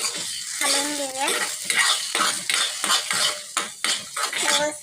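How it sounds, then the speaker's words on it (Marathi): A metal spoon scrapes and clinks rhythmically against a pan while a dish with chutney and salt is stirred, with a faint sizzle beneath the repeated strokes. "चवीपुरतं मीठ टाकलं की आता आपण याला व्यवस्थित हलवून घेऊया"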